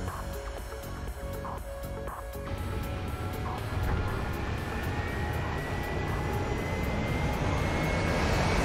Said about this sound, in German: Wir nehmen den Hubschrauber.